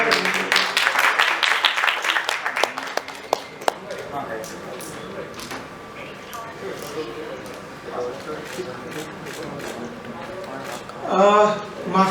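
An audience at the launch of a music show claps loudly for the first few seconds, the applause then fading out as talk and room noise take over.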